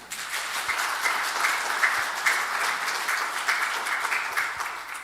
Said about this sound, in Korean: 여러분 큰 박수 한번 주십시오.